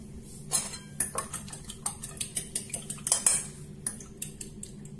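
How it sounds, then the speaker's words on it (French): A utensil stirs breadcrumbs and cornstarch with salt and pepper in a bowl, giving a rapid series of light clinks and scrapes in an even rhythm, close and clear with no talking. "Je vais mettre aussi du poivre dans les deux. Et je vais mélanger les deux."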